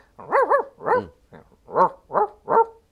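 A voice imitates a dog whining and yelping after being hit: six short, pitched whimpers in quick succession, close and clear with no other sound.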